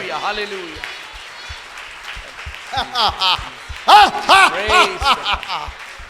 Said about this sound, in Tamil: கைதட்டு கைதட்டு.